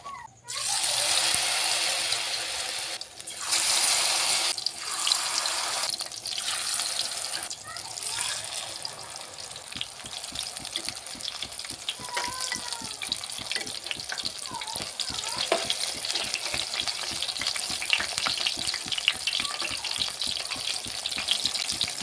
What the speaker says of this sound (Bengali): এইভাবে আপনারা একটু সময় ধরে এপিটোপিট করে ভেজে নেবেন